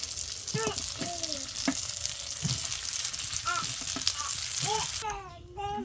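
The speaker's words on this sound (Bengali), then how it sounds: "ওই তেলেই পিঠাগুলা দিয়ে দিই" Pitha frying in hot oil, giving a steady close sizzle throughout, with a voice and chirpy calls over it.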